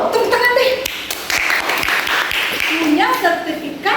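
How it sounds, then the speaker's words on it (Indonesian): Brief clapping from a small group of students in a classroom, loud and close, with a voice talking over part of it. "tepuk tangan deh"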